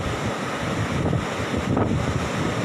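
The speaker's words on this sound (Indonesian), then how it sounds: "Lihat derasnya air yang masuk dari arah laut ke warung-warung yang ada di pantai Tanjung Pakis ini." Seawater rushing in from the sea into beach stalls at Tanjung Pakis, a loud churning wash of water mixed with wind noise, continuous and near.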